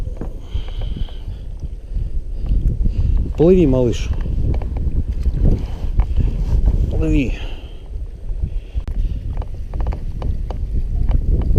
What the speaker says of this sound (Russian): попался ветер серьезный